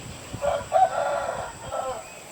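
A rooster crows once nearby in Ao Nang, Krabi, a long, rising cock-a-doodle-doo that trails off, followed by a brief faint cackle.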